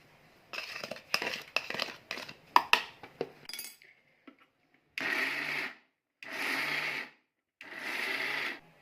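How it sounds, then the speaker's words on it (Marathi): Peanuts are coarsely ground into a green chili paste for chutney. First come scattered clinks and clatter as the jar is loaded, then three short, loud whirring pulses of an electric grinder, each followed by a pause. "आता आपण ते शेंगदाणे टाकून घ्यायचे ओबड धोबडच वाटायचे"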